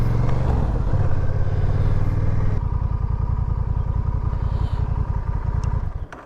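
A motorcycle engine idling after a crash, loud and close, with a steady throbbing pulse that shifts in pitch partway through and keeps chugging evenly before fading out at the end.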